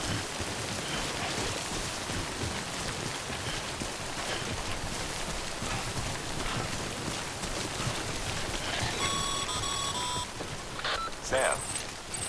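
Steady timefall rain hisses across the landscape in the video game Death Stranding, a constant wash of drops with a few electronic beeps near the end.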